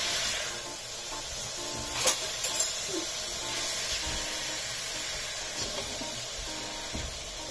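Rose-shaped nakshi pitha frying in plenty of hot oil gives a soft, steady hiss and sizzle, with a brief cluster of sharper crackles partway through.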